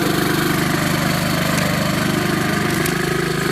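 Honda HRX 21-inch self-propelled lawn mower running steadily up close, its blades engaged with a continuous loud engine drone and whirring hum that holds even throughout.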